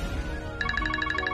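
A phone starts ringing partway through, a rapid pulsing electronic ring tone over a low background hum, moderately loud and close.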